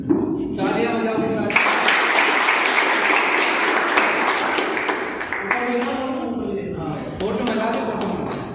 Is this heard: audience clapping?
yes